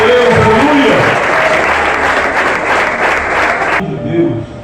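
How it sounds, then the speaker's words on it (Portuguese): A church congregation applauds in praise, a dense sustained wave of clapping that fills the room and then cuts off abruptly, with a voice speaking at the start and end. "Pode aplaudir o Senhor."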